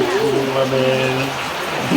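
Steady rain falls as an even, continuous hiss, with a voice speaking over it nearby.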